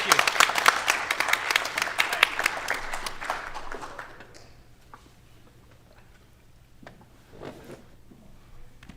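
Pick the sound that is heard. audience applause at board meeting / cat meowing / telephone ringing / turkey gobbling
audience applause at board meeting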